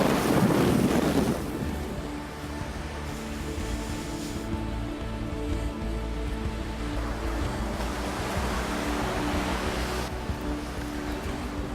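Wind gusts roar across open water in Kazakhstan, a loud buffeting rush at first that eases into a steady blustery hiss with lapping waves beneath, no voices.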